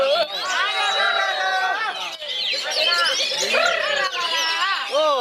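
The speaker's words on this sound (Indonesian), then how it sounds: "Di sini ada burung." An oriental magpie-robin (kacer) sings loud, varied whistled phrases and chirps close by, continuous and rapid, with people talking quietly in the background.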